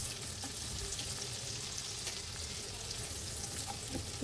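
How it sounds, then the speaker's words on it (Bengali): Chopped onion and garlic fry in soybean oil in a pan, giving a steady, even sizzle and crackle that runs unbroken for several seconds with no talking. "এবার পেঁয়াজ ও রসুন কুচিটাকে একটু ভেজে নিব।"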